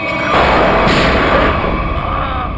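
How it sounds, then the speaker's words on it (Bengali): Gunfire in a Bengali-dubbed CID police crime drama: a loud, dense, continuous blast of noise that fills the whole moment with no voices over it. "দয়া, তোমার গুলি লাগলো? না না, কিচ্ছু না, গুলি ছুঁয়ে বেরিয়ে গেছে।"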